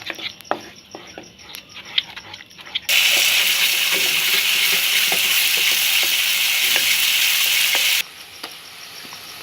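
Fig paste roasting in melted ghee over low heat, stirred steadily: a loud, continuous sizzle fills the middle of the clip, with softer scraping and clinks before and after.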